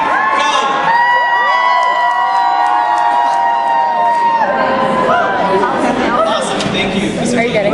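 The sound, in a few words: school assembly students cheering wildly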